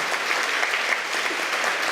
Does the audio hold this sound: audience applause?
yes